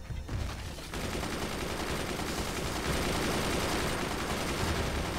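Machine gunners blazing away in the strategy game Forts, a dense, continuous clatter of rapid gunfire that holds steady and loud for the whole stretch, with no voices over it.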